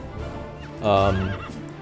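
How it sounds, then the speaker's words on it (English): A horse whinnies loudly and close in the strategy game Love n War: Warlord by Chance, a rising then wavering neigh lasting about half a second over a low battle-scene background hum. "So now the horse is coming in."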